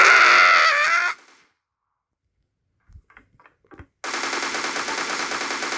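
Bursts of rapid automatic gunfire from a zombie shooter game, Counter-Strike style: a loud volley, then a quiet gap with a few faint clicks, then another sustained close burst.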